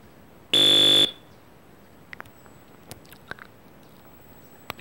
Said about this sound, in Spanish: cada vez que hablo este pitido suena